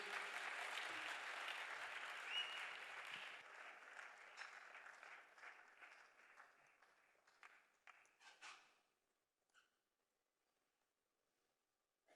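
A church congregation claps loudly at a worship gathering, the dense applause holding steady, then thinning into scattered claps and fading to near silence.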